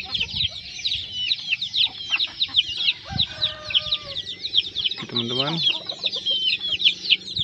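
Crossbred junglefowl and village chickens, a rooster and two hens, cluck and chatter continuously up close, with higher chirps over lower clucks and a brief spoken voice.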